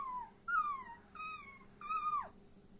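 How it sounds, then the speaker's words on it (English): A puppy crying: several high, drawn-out whimpering whines in a row, the last one sliding downward, close and fairly clear over a quiet background. "suddenly he heard a crying sound of a dog like this"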